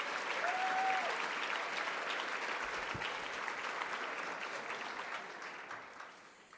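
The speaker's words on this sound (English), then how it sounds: "Can everybody just give them one more round of applause?" A room full of people applauds at an evening awards event honoring women in business, a steady dense wash of clapping that holds strong and slowly tapers off near the end.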